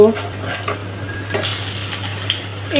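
Boiled eggplant fritters frying in oil, a gentle sizzle with light clinks and scrapes of a utensil turning them in the pan.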